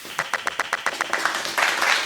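Hand claps ring out in a small podcast room: about a dozen quick, evenly spaced claps that speed up and blend into a brief burst of applause, close and moderately loud.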